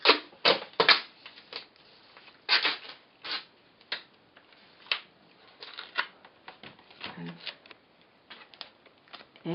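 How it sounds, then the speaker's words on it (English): Tape rips and is pulled tight across a custom shoe last, a series of sharp, uneven tearing bursts and scratchy stretches, close and fairly loud with short pauses between pulls. "you might need to rip the tape in two a little bit"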